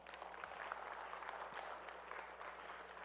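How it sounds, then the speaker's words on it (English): Steady applause from an audience at a business expo panel, honoring workshop presenters; dense, continuous clapping throughout, fairly distant, with a faint murmur of the crowd beneath. "Let's give a round of applause to all of our workshop presenters."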